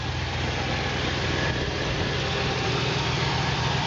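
A 1970 Chevrolet Impala, with a suspected small exhaust manifold leak, idles nearby with a steady, even low rumble and broadband mechanical noise, no one speaking.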